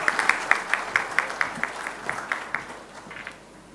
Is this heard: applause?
yes